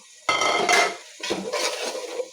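Washed meat dropped into a pot of frying spices sets off a loud hiss and clatter. A second, longer burst of sizzling and scraping follows, and no voices are heard.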